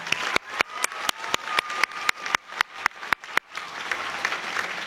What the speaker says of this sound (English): let's give a round of applause for DPR